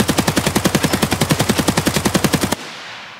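Full-auto bursts from an AKS-74U rifle in Escape From Tarkov, a fast even string of about twenty loud shots over two and a half seconds, cut off sharply and followed by a fading echo.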